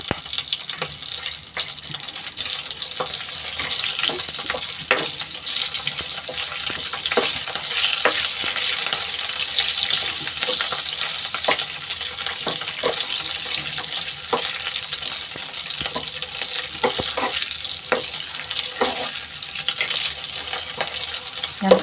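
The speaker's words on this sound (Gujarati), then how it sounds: "હવે આ મરચાં બી આપણે નાખવાનું, તળાઈ જાય એટલે મીઠિયામાં ખાવા થાય." Green chillies frying in hot oil with asafoetida, a steady bright sizzle with scattered crackles and occasional stirring clicks, close and continuous throughout.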